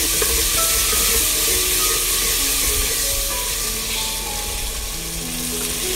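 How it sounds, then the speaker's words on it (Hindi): Masala with ginger and chilies sizzles steadily in a pan while it is stirred and roasted for aloo palak, a loud, continuous frying hiss with faint scraping throughout. "मसाले को मैंने तकरीबन 4 से 5 मिनट के लिए भून लिया अच्छी तरह से"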